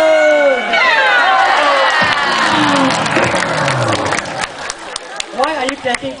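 Crowd at the Night Safari show in Singapore cheering loudly, with children's shouts and clapping in a dense burst that fades into scattered voices.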